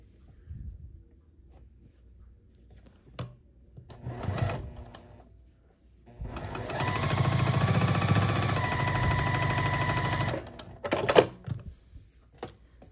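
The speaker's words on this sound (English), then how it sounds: "I'm going to sew here." A sewing machine stitches a quilt block, a loud, steady mechanical whirring run of about four seconds, preceded and followed by short, quieter bursts of stitching and handling clicks.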